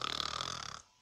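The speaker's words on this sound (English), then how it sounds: "he snores like an animal." A sleeping man snores, a single drawn-out rasping breath with a rapid fluttering rattle, heard close and fairly quiet before it cuts off.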